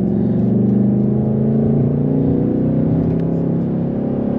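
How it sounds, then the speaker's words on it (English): A 2024 Ford Mustang GT Premium's 5.0L Coyote V8 with automatic gearbox rumbles loudly and steadily from close by, a deep throbbing engine note holding near constant with slight swells, no talk over it. "the V8, the Coyote engine is just there to enhance that experience"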